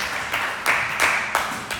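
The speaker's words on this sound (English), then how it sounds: "easy applause break" A small comedy club audience at Mac's Dough House claps in a short, moderate burst, with a few louder swells of clapping as it fades within about two seconds.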